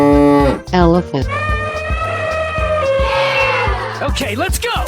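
A cow in a 3D animal slide game moos with several loud, drawn-out calls, backed by rhythmic game music while a person talks excitedly over it.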